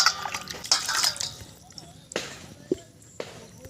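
Magur catfish being washed by hand in a bowl of water, intermittent splashes, drips and sloshing bursts, close by and fairly quiet.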